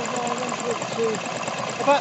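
A boat engine idles at about 750 rpm at a rally, a steady close rumble running under a voice.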